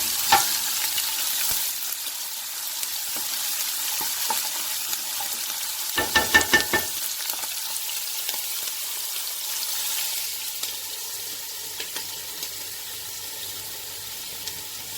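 Chopped onions sizzle in a hot pan as part of a sautéed spinach and vegetable dish, a steady broadband frying hiss with a brief clatter of stirring midway; no one speaks.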